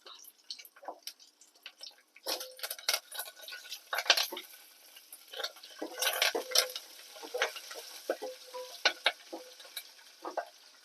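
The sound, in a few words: tempering frying and being stirred in pan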